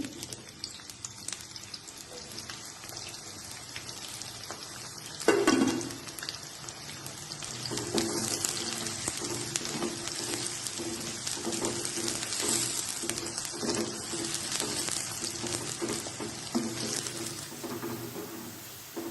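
A large chopped onion drops into hot oil, giving a sharp burst of sizzling that settles into a steady, close frying hiss with faint crackles and no talking.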